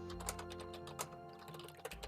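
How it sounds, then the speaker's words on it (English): Rapid typing on a computer keyboard, a steady stream of soft, close key clicks with a few sharper taps, over a constant low electrical hum. "the things you're typing"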